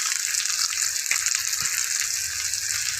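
Fresh pork chops sizzle on a grill set over a kitchen stove burner, giving a steady, close hiss and crackle with a couple of brief pops and no talking.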